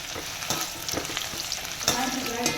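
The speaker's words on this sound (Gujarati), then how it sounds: "આપણે આમાં હવે ભીંડો ફ્રાય કરી લઈશું થોડો થોડો કરીને" Okra (bhindi) fries in hot oil in small batches, giving a steady, close sizzle with occasional sharper crackles and stirring bursts throughout.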